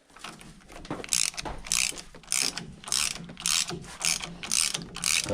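Ratchet wrench snugging brake caliper mounting bracket bolts on a 2009 Ford F350, a close, loud run of rapid clicking bursts repeating in a steady on-off rhythm.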